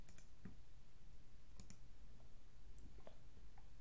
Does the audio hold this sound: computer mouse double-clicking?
yes